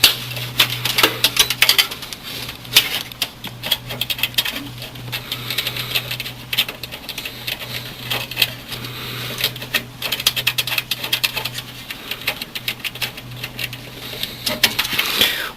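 Cables, wires and the power plug being pulled out of the back of a computer, giving a long run of close, sharp plastic clicks, taps and rattles in irregular bursts over a steady low electrical hum, with no talking.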